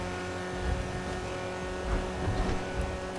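A 2019 McLaren Senna in GTA 5, engine humming and building as the car accelerates, with a few low thumps and faint tire noise over a steady tonal drone.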